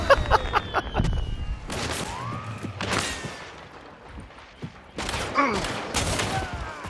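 Gunfire in the video game Hunt: Showdown, a series of sharp, loud shots and echoing cracks spread across several seconds, some near and some distant, with bullet whizzes mixed in.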